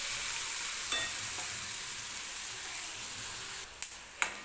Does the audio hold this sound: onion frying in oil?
yes